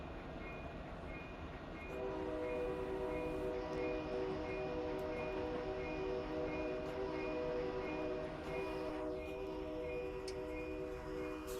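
An EMD 710 diesel locomotive on Marias Pass in Train Simulator 2021 drones steadily. Its multi-tone horn blares in a long sustained blast over the engine rumble, with faint clicks and no voices.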